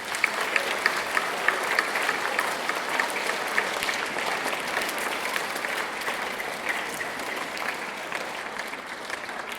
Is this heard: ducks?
no